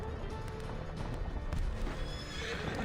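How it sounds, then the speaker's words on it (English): A horse whinnies in the video game Reverse 1999, a long neigh with hoofbeats clip-clopping beneath it, close and steady throughout with no talk. "The horse gives a long, glad whinny and returns"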